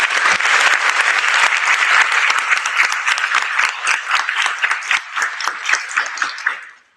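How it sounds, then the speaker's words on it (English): An audience applauds at a high school NJROTC change of command ceremony, loud and dense at first, then thinning into scattered claps that fade out near the end. "We have a round of applause, please."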